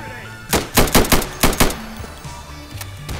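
Close, loud bursts of gunfire in the video game Insurgency, with about half a dozen sharp shots clustered in a quick volley, then quieter game ambience.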